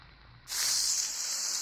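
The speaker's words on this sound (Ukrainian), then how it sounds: "Додаємо, перемішуємо і нехай обсмажується все разом" Carrot and other vegetables for Poltava-style bograch hit hot fat and erupt into a sudden loud, steady hiss that holds close and bright after a quiet start.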